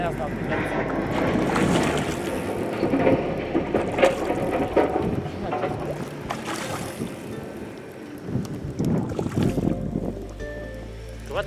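Gusty wind buffets the microphone in rough, uneven bursts near water during November pike fishing in rain, with people speaking intermittently underneath.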